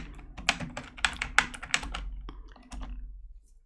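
Quick bursts of keystrokes on a computer keyboard, close and crisp, a run of rapid taps followed by a few slower presses and a pause.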